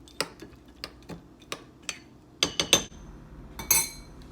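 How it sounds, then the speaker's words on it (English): A spoon stirring granola into a bowl, with a series of sharp clinks and taps against the bowl, spaced at first and then bunched into a quick cluster, with no talking. "Stir it in"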